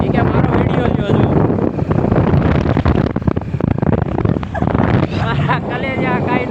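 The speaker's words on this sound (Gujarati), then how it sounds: "એકદમ ઠંડો ઠંડો પવન આવે છે" Strong cold wind buffets the microphone outdoors near the Mahisagar shore, a loud continuous rumble with gusts and a voice faintly underneath.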